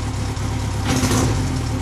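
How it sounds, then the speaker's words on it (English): A motorcycle engine revs from a dead stop after fresh fuel treatment, a brief mid-pitched idle swelling into a short hesitant rise in throttle, close and steady, with no voices. "I'll let you watch the RPMs as I do a couple engine revs"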